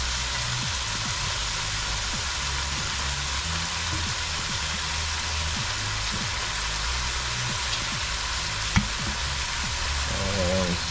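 Egg roll filling sizzles steadily in a hot pan while being stirred, with soy sauce added, a continuous frying hiss with soft scraping throughout and one sharp knock near the end.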